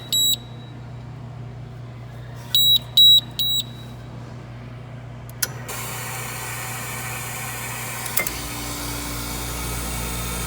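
A Hoshizaki ice machine sounds its alarm as three sharp, high beeps, repeated twice with a pause between, before a click and the steady hum of the machine running.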